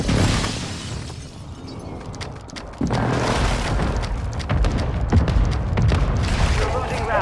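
Mortar strikes land in a first-person shooter match as deep, rumbling booms that swell into a sustained roar of blasts and crackling debris, with a brief lull in between and faint game voices underneath.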